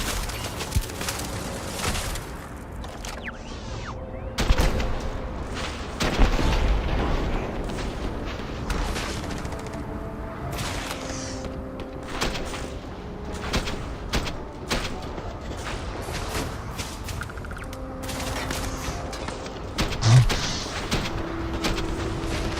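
Rifle gunfire in the video game Starfield, played on extreme difficulty: repeated loud shots and booms in irregular bursts amid a busy, dense game soundscape.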